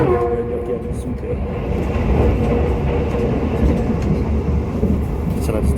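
The Argo Bromo Anggrek passenger train runs on the Surabaya–Jakarta line, a steady rumbling roar of wheels and carriages heard from aboard, with a person talking over it.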